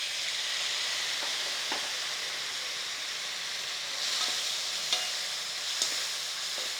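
Tomatoes stir-fried in hot oil for hotel-style sambar give a steady, close sizzle, with a few soft scrapes and clicks of a spoon stirring the pan. No one speaks.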